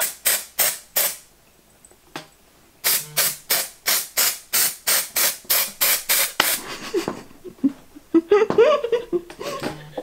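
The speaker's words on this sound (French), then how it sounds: "je viens prendre de la bombe à peinture puis je vais mettre vraiment que aux racines." Aerosol spray paint hisses onto hair roots in a dozen or so short, sharp bursts of a second or less each, close and loud, with a pause early on; laughter and giggling follow at the end.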